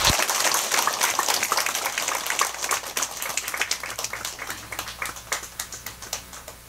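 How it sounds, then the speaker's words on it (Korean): Audience applause at a Buddhist Dharma meeting, a dense burst of many clapping hands that starts loud and gradually thins into scattered, fading claps over several seconds. "큰 박수 부탁드립니다."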